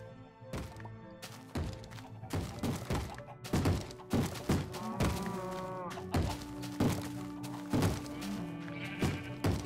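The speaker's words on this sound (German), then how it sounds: "die Schweinepriester versuchen mir gerade meine Tür einzutreten" Minecraft zombies pounding on a wooden door in the video game, a steady run of hollow thunks and knocks, fairly quiet and repeating irregularly.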